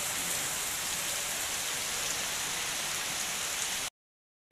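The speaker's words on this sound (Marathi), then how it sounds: "पाऊस पडायला लागला आता, वरती आवाज पण येतोय." Rain drums on the roof above during an evening in Kashmir, a dense, even hiss of falling water that runs for about four seconds and then cuts off abruptly.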